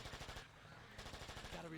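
Rapid automatic gunfire from Peter Jackson's King Kong game, aimed at spawning dinosaurs, rattles in a steady fast string of shots with a brief dip midway. Quiet, with no talking.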